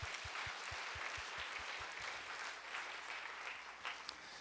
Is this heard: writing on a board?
no